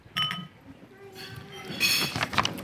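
Glasses clink together during a wedding toast, several bright chinks scattered over background chatter, with a louder burst of clinking near the end.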